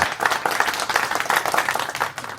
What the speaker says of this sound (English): Let's give her an applause, y'all.